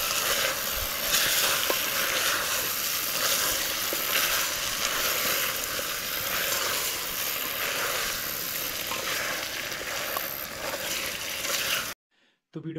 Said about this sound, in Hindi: तो चिकन हो रहा है फ्राई।